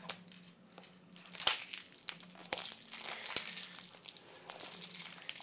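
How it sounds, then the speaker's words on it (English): Plastic wrapper is peeled off the box of a disposable e-cigarette, giving close, quiet crinkling and tearing in irregular bursts with a few sharp snaps. "Peel this off."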